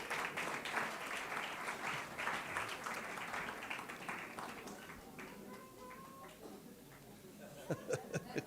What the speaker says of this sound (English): Give her a nice round of applause, Brenda.